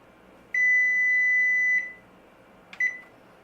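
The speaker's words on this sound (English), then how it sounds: "Now I'm going to set my timer for 9 minutes" A kitchen timer beeps once the cookies finish baking: one long, clear electronic beep, then a pause, then two short beeps close together.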